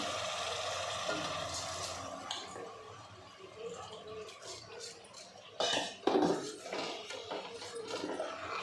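Soaked rice being stirred in a metal pot, with scraping, clinking and soft wet squishing sounds, close and fairly quiet, in irregular strokes and a few sharper knocks.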